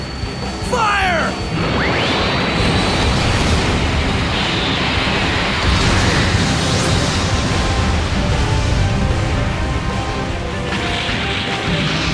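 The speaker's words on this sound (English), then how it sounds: "High Mega Cannon" High Mega Cannon blast in the video game Dynasty Warriors Gundam 3: a sustained, loud roaring energy beam with crashing noise and a rising whine at the start, filling the whole stretch.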